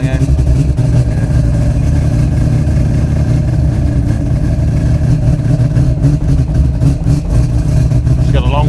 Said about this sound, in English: Yeah, just rumbling, eh?